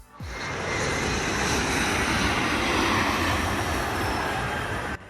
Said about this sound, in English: You'll see low-altitude flyovers from American, Delta Airlines, and United Airlines.